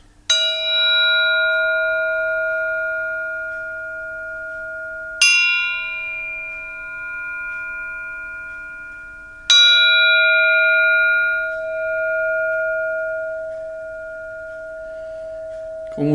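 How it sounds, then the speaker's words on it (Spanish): A resonant gong is struck three times before a meditation, each stroke ringing out with a long shimmering sustain that overlaps into the next, with no other sounds. "Van a escuchar el gong, 3 toques y luego enseguida comenzamos."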